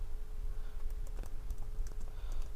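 Quiet keyboard typing during a MySQL database tutorial, with scattered key clicks in short irregular bursts under a low steady hum.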